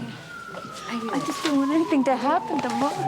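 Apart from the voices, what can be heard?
ambulance siren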